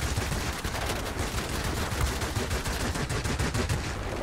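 Continuous rattling fire from a plane's rear gunner in World of Warplanes, a rapid, steady stream of shots mixed with engine and battle noise throughout.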